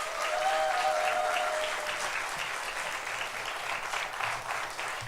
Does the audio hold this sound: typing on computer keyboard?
no